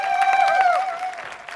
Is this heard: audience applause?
yes